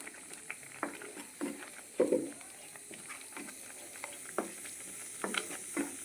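Spinach khichdi with added water cooking in a pot, giving soft intermittent bubbling and sizzling pops at close range, irregular and fairly quiet, with no talking.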